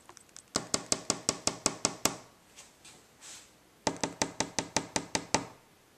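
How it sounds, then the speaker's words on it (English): Knuckles rap on wood in two quick runs of about ten sharp, evenly spaced knocks, separated by a pause with faint rustling, close and crisp. "Knock on wood."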